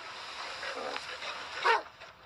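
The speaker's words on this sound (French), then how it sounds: "Des chiens montent la garde sur ces plages" Dogs on a beach give a few faint, distant barks and yips, with one sharper burst near the end, against a steady wash of wind and surf.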